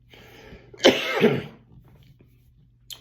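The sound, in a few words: cough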